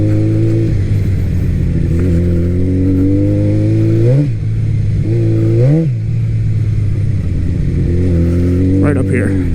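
A 1000cc Hurricane motorcycle engine drones loudly on a dirt road, rising in two distinct revs around the middle, close and steady throughout, with the rider's voice partly heard under it.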